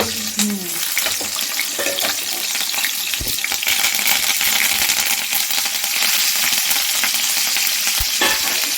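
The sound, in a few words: green chilies frying in hot oil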